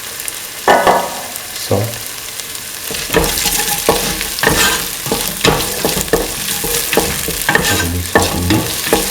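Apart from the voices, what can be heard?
sautéing garlic and salt for chili duck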